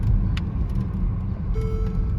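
A 2013 Mercedes-Benz GL63 AMG with 117,000 miles on it cruising along, its engine and road noise forming a steady close low rumble inside the cabin, with a faint thin tone toward the end.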